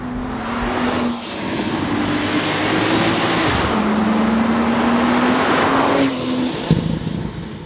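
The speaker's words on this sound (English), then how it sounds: "this Porsche Boxer, when you get on it, really does sound pretty special" A 2014 Porsche 911 Turbo S Cabriolet's boxer engine accelerating hard, a loud, steady rising drone climbing through gears with brief dips at shifts, heard from inside the car with no talk.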